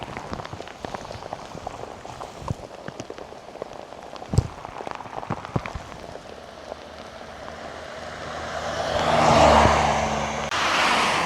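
Steady rain hisses on a wet road while cycling through non-stop rain between Italy and Slovenia, with scattered drops tapping close by and a swelling rush near the end.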